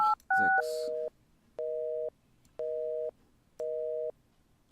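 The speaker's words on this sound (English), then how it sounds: "All circuits are busy. Please try again later." In the adventure game Thimbleweed Park, a cell phone dials with a few quick keypad tones, then a loud busy signal pulses four times in even on-off beeps.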